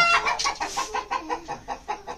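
A bantam hen sitting on eggs clucks repeatedly in a quick, rhythmic series of short calls, close and clear, with no other sounds.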